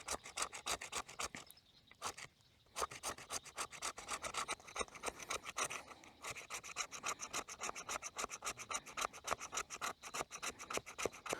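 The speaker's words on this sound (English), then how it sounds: "Sitting here shaving up some fat lighter to get our fire started." Steady rhythmic rasping as a knife shaves fat lighter pine for fire starting at a forest campsite, close and continuous with only a brief pause near the start.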